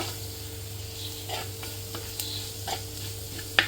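Green chili and chili powder are sautéed for a sardine curry, a soft steady sizzle with a few scattered spoon scrapes and stirring taps, close and moderately quiet over a low constant hum.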